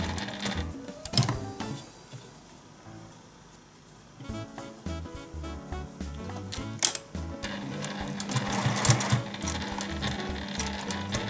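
A sewing machine stitches the front hem of a piece of dog clothing, running in steady close mechanical bursts with a pause partway through before starting up again, no voices.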